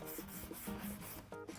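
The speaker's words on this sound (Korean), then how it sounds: "사포질 할 때 너무 많이 갈아내지는 마세요" Sandpaper rubs back and forth across hinoki cypress wood during a woodworking class for making a book stand, a steady close scratchy rasp in repeated strokes with no talk.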